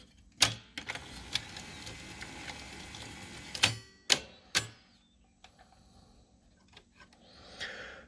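The tape mechanism of a Toshiba V8600 VCR moves in sharp mechanical clicks and clunks separated by whirring motor noise and quiet gaps, heard up close with no talking.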